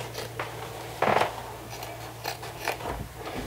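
Scissors snip through the fabric lining's seam allowance of a fold-over clutch, with a few crisp cuts clustered near the middle and quieter trimming sounds at close range.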